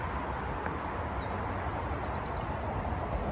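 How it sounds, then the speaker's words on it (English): Small birds chirp and trill in quick bursts outdoors on a calm morning, high and fairly distant over a steady broadband background hiss. "Don't know if you can hear all the birds singing."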